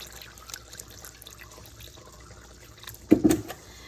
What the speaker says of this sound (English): now I'm just going to add the milk to it